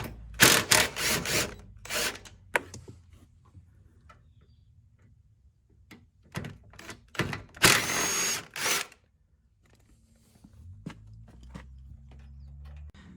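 Power tool whirring in short bursts while backing bolts out of a badly damaged truck fender, several loud drill runs separated by gaps, with faint clicking and low hum between.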